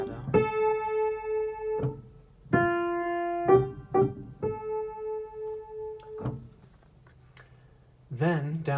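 A treble-staff measure plays a few single notes with held tenuto and short detached staccato touches, clear and close. A brief voice comes in near the end.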